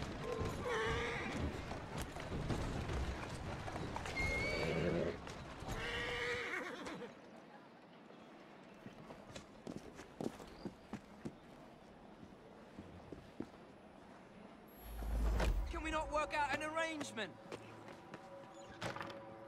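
Carriage horses in the Assassin's Creed Syndicate video game whinny loudly at the start and again near the end, with clopping hooves and creaking mechanisms under a stretch of quieter game ambience.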